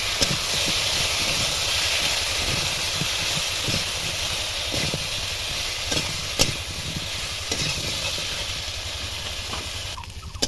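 A bay leaf sizzles in hot oil for a vegetarian dal with dhoka, a steady close hiss with faint crackles that runs unbroken through the whole stretch, with no voices.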